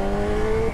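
A 2022 Honda CB1000R Black Edition's engine revs steadily nearby, a loud, sustained tonal drone held for under a second without voices.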